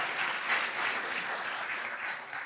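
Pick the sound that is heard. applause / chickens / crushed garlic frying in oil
applause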